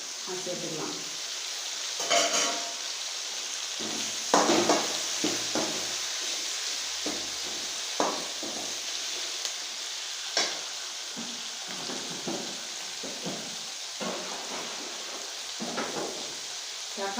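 Tomatoes and green chillies sizzle in a pan while being stir-fried for vegetable sambar, a constant frying hiss broken by repeated scraping and clacking from stirring.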